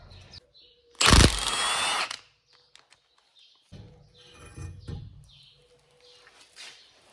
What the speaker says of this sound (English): So we remove the bolts from the brake caliper holder